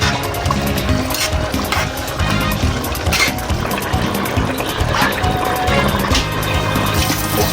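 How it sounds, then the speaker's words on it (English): Potatoes rinsed under running water in a home kitchen while Spanish-style chicken stew is prepared, a steady close splashing and pouring wash with broadband hiss and clattering low rumble, no voices. "Just washing the potatoes off."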